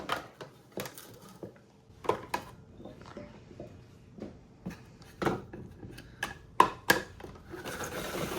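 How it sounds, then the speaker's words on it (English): Radishes chopped with a small hand chopper, giving a series of sharp, irregular clacks and crunches up close, with short pauses between strikes and no voices. "I've got my handy dandy little chopper here, and we're just gonna go ahead and start chopping up"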